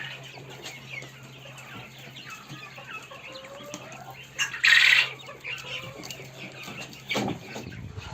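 Chickens cluck and chicks peep softly in the background, with a louder squawk or flutter midway and another burst near the end.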